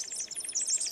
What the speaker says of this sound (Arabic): وطيور الهازجة الصفراء.